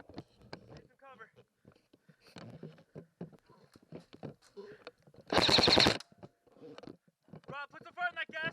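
Airsoft guns fire during an outdoor scrimmage, with a loud rapid burst of shots in the middle standing out above scattered faint pops, while several people talk and call out around it.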